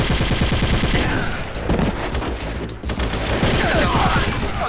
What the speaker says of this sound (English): We're gonna have to just shoot our way out of here.